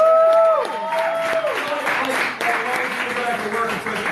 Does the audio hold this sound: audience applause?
yes